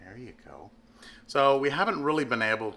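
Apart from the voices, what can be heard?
No everyday noises stand out.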